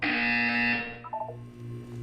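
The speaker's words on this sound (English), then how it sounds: "When you hear the buzzer, look down at the floor." A long, harsh electronic buzzer from the video game Portal 2 blares loudly for most of a second, then cuts off. A few short descending tones follow over a low background hum.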